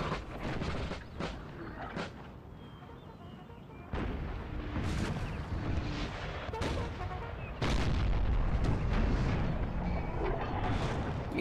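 Artillery cannon fire in the Napoleon Total War 3 video game, with repeated booming blasts at irregular intervals over a constant rumbling battlefield roar that grows louder toward the end.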